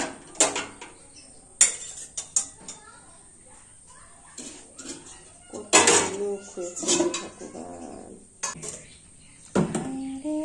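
Dishes, pots and pans are washed and scrubbed by hand, with sharp metallic clanks, clatters and scraping coming irregularly and close by, and someone speaking intermittently between the knocks.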